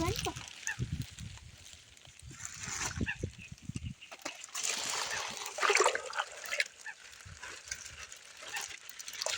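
A bucket of water holding fish is tipped out while fishing in the rain, giving a burst of splashing and gushing water in the middle of the clip, with people talking nearby before and after.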